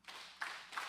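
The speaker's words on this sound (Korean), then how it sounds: "박수 3번 시작." Church congregation clapping in unison, three short bursts of applause spaced about evenly, moderately loud in a reverberant hall with no talking.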